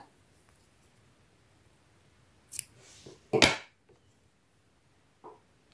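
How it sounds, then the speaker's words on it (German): Scissors snipping off knitting yarn threads at the side of a two-needle sock, a couple of close, quiet cuts in an otherwise still room. "ich schneide hier die Fädchen auf der Seite ab"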